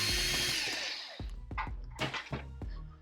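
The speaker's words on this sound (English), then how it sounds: "And we want to unscrew this bad boy." A screw being backed out of the underside of a PS5 console during an SSD install, heard as a few close, sharp clicks and scraping turns separated by brief pauses.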